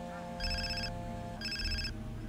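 A telephone rings twice in Far Cry 3, two bright trilling bursts separated by a pause, layered over a steady low in-game hum.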